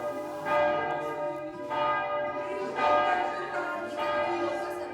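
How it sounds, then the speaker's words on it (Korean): Church bells ring out at the Mont-Saint-Michel abbey in France, four or five resonant strikes a second or so apart, each leaving a long humming decay, fairly near and with no talk. "내부 잔디에서 종소리를 들으며 여유를 즐깁니다."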